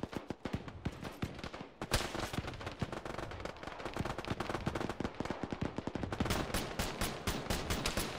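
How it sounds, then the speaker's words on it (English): Sustained automatic gunfire in the Arma military game during a ShackTac squad battle, loud rapid bursts of machine gun rounds cracking continuously with dense, rhythmic volleys and no voices. "I'm just throwing rounds down range, man."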